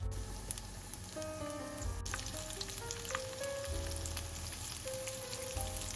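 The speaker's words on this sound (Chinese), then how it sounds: "把大排放入油锅中，中火煎60秒" Steady sizzling of a flour-coated pork chop frying in hot oil over medium heat, close and continuous, with crackling pops throughout and no talking.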